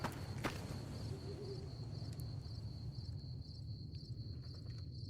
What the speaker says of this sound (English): that was the sound of an owl, yeah, along with the crickets